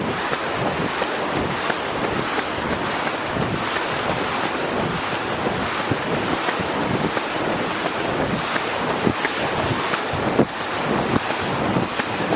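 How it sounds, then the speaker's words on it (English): Wind gusts across a sunny beach and buffets the microphone in a constant loud roar, with faint surf washing underneath and no talking. "the wind has freshened up as it normally does"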